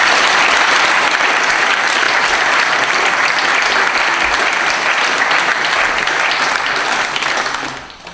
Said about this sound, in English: And could I invite a round of applause as well?